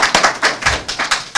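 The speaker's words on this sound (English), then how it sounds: "So how about a round of applause for Chef John Folse?" Scattered hand claps from a college class audience welcoming chef John Folse in New Orleans, a brief, close burst of uneven claps with no talking.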